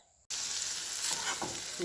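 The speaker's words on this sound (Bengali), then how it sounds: "বেগুন ভাজা হচ্ছে বেগুন ভাজা এখানে হচ্ছে" Eggplant slices frying in a pan, a sudden burst of loud, close sizzling that starts abruptly after a brief quiet moment and holds steady.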